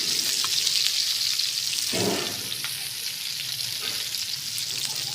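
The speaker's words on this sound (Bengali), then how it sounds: "মাছ ফ্রাই হচ্ছে" Pakistani-style fish frying in a pan: a steady, dense hiss of sizzling oil running throughout, with a brief low thud partway through.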